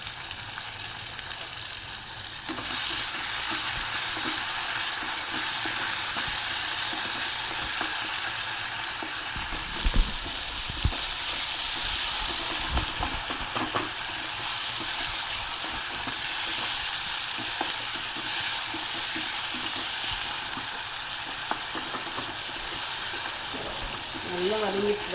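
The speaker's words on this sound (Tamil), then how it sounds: "தக்காளி நல்லா வதங்கிடுச்சு." Chopped tomato frying and sizzling in oil for a Tamil fish curry (meen kulambu), a loud, steady sizzle with occasional stirring scrapes throughout, with no speech over it.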